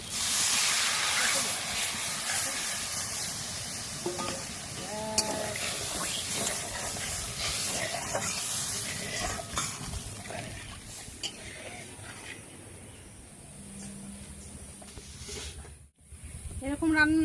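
Spice paste for paneer butter masala hits a hot pan with butter and sets off a loud, steady hiss. The sizzle eases after several seconds, and a brief scrape follows near the end.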